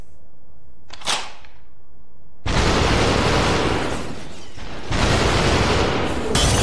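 Gunfire in the VR shooter SUPERHOT VR: a sharp crack near the one-second mark, then a long loud roaring burst of shots that dips briefly and resumes, with no talking.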